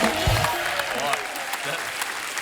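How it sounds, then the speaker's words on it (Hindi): Studio audience on a Hindi comedy talk show giving the guests loud applause, a dense burst of clapping under a host's voice at the start, continuing steadily and close. "एक बार हमारे मेहमानों के लिए जोरदार तालियां।"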